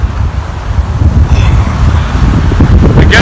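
Strong winter wind roars in a forest during a windstorm, with heavy low rumbling buffeting against the microphone throughout and a faint rustle on top, continuous and loud.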